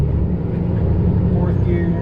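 A truck engine with a 10-speed transmission drones loud and close in the cab, a steady low rumble with a slight pitch shift while gears are floated.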